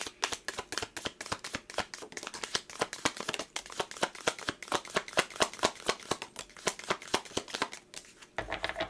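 Message cards shuffled steadily and close by, a dense run of rapid crisp riffling flicks that goes on without a break, with no talking.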